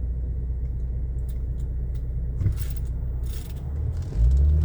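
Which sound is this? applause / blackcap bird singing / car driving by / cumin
car driving by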